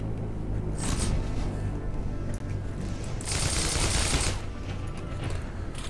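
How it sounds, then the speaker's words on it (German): FG42 paratrooper rifle fired in the World War II shooter Heroes & Generals, with rapid bursts of gunfire crackling loudly and continuously through the whole stretch, heard close and without talking. "das hier ist das Fallschirmjägergewehr 42, ziemlich cool. Da das auf Distanz sehr stark ist."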